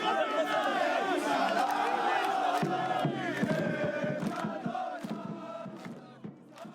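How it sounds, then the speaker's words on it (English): A large crowd of Betar Jerusalem football fans sings loudly together, a dense wall of massed voices that holds steady before thinning toward the end. "here is Ben-Gvir in the middle of a crowd of singing Betar fans on video"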